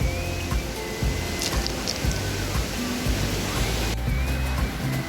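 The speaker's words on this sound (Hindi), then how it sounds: "और ये पानी की आवाज़, ये पानी शिखर फॉल्स" Shikhar Falls near Mussoorie pours in a steady, full roar of falling water, continuous throughout, with faint tonal sounds drifting over the rushing noise.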